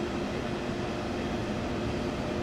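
A Class 766.2 double-decker train rumbles along in Train Sim World with a steady, continuous drone of motor and rolling wheels. The level stays even and moderately loud, with no other sounds on top.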